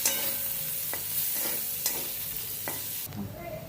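Potato curry with fresh coriander is stirred in a kadhai, a soft continuous frying hiss broken by a few sharp scrapes of the spatula against the pan.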